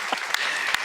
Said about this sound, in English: We can clap for Christy